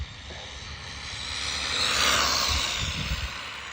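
A Jetwood JC14EP RC plane, an MJX clone on a 4S battery and a budget ESC, flies into the wind with a steady high electric whine that swells as it passes nearer, then eases slightly.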